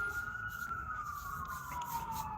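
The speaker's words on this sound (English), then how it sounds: "hold on, this damn ambulance coming by" An ambulance siren passes by outside, a steady wailing tone that slides gradually lower in pitch as it goes, heard continuously over a broad background rumble.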